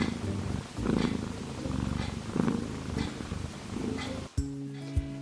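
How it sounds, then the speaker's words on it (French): A pet cat purrs steadily up close, a low rumbling throb rising and falling with each breath, followed near the end by a brief change in the background. "Tu sais Chacha, si tu ronronnes ça va pas être cool."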